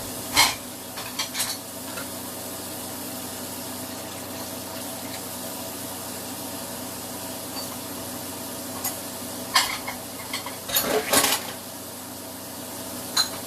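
A big mixing bowl is washed by hand in a kitchen sink, with running water hissing steadily under occasional clinks and knocks of the bowl and utensils.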